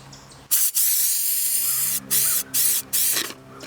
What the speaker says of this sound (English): It is now time to start the final step of this coop, which is spray foaming these gaps right here.